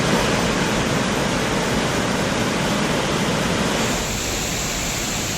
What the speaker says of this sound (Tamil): அருவியில் வெள்ளப்பெருக்கு ஏற்பட்டுள்ளது